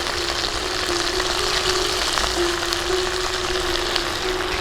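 Green peas and a few green chillies sizzle in hot oil in a wok during village-style Bengali cooking, a steady, close, continuous frying hiss with no voices.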